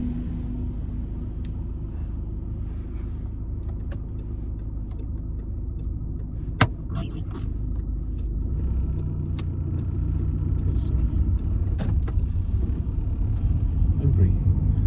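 Car interior during a driving test in Wood Green, with a steady low engine and road rumble growing slightly louder over time, a few small clicks, and voices talking over it.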